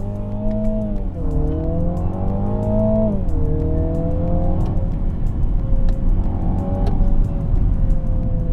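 A Mini Clubman John Cooper Works GP in sport mode accelerates hard, its engine loud and close as revs climb, drop at a gear change and climb again, with no talking.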